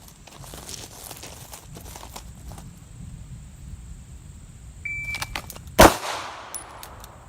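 A single sharp gunshot during live-fire shooting practice rings out near the end, loud and close, after a stretch of quiet handling noise and faint shuffling.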